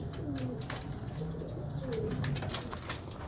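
Pigeons coo softly in low, rolling calls under a busy outdoor background with scattered chirps and rustling.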